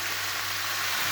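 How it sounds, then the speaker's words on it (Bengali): Tomatoes lightly frying in a pan, giving a steady, close hiss of sizzling oil with a low constant hum underneath and no talking. "টমেটো দিয়ে দিই। সেগুলো হালকা একটু ভাজা হবে"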